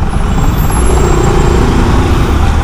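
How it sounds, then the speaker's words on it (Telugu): Dense road traffic in Hyderabad roars loudly and steadily, heavy trucks and buses rumbling close by with a high air-brake squeal near the start; no voices. "ట్రాఫిక్ మొత్తం ట్రాఫిక్"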